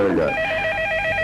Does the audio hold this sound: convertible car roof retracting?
no